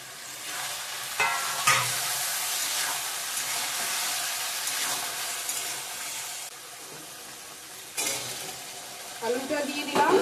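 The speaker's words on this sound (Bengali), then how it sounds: "আলুটা দিয়ে দিলাম বন্ধুরা, ভালো করে কষিয়ে নেব" Potatoes are sautéed in a pan with chicken curry, a loud continuous sizzle and hiss running throughout, with occasional clanks and scrapes of stirring nearby.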